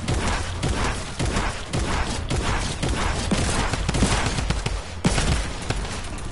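Rapid gunfire in the video game Fortbite 5, dense overlapping shots in quick bursts that continue loudly throughout with little pause.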